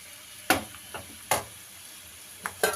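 Garlic fries in a pan on a stove at medium heat for spinach dal, a faint background sizzle punctuated by four sharp scraping stirs of a spoon against the pan.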